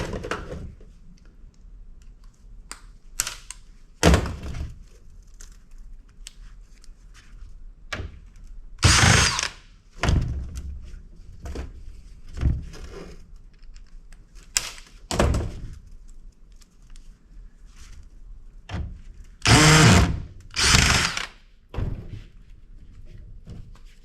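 A power tool fitted with a socket works a fastener loose on mud-caked electronics, firing in short bursts of whirring and ratcheting separated by quiet pauses and small handling clunks.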